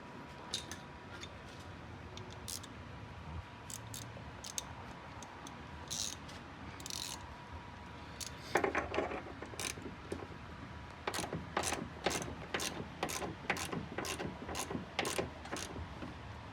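Socket wrench ratcheting while car coilovers are being worked on: faint ticking bursts at first, then a quick run of sharp, evenly spaced clicks toward the end, close but quiet in the workshop.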